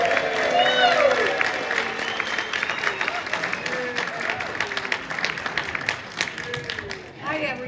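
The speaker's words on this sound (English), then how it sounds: "let's have a great round of applause for our own funny lady, Joey Sims." A comedy club audience applauds and cheers as a comedian comes on, dense steady clapping filling the room with scattered whoops, while a voice speaks over it.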